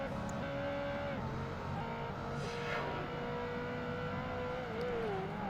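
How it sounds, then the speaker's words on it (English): Dodge Viper race car in Project Gotham Racing 2 accelerating down a straight, a steady engine drone whose pitch climbs and shifts as it speeds up, heard alone at moderate level. "here we're going to see the Viper's straight line speed, because it is actually one of the quickest"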